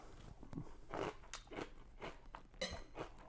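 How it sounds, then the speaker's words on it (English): Crisp bites and crunches into a fermented pickle, a run of sharp crunchy bursts spaced through the clip, close and fairly loud with no talk. "It's still extremely crunchy, but it tastes like a pickle."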